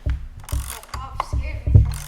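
A power steering pump pulley is forced off its pressed shaft with a puller, giving a series of close mechanical clicks and ratcheting knocks that build to a sharper pop near the end.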